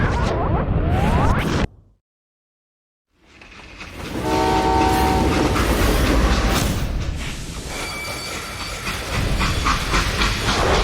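Train in the Call of Juarez Gunslinger video game: a loud rumbling, hissing rail roar broken by a brief silent gap, then a steady whistle or horn tone over continuous clattering rolling noise.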